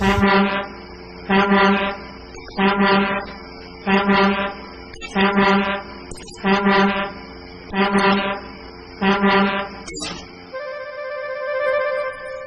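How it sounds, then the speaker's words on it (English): A loud, deep foghorn-like horn blasts eight times in a steady rhythm of short repeated toots, then gives way to a sustained tone. "It's a new invention, a railway foghorn."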